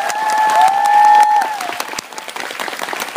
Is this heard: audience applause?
yes